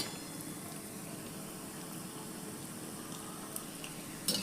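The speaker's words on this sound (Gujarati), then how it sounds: "અંદર કઢાઈમાં માય એટલે આપણે ગોટા ઉતારી લઈશું અને થોડા ગોલ્ડન કલરના ક્રિસ્પી બને ત્યાં સુધી આપણે એને ફ્રાય કરી લઈશું" Gujarati gota fritters fry in oil in a kadai, giving a soft, continuous bubbling sizzle at low volume with a few small pops and no voices.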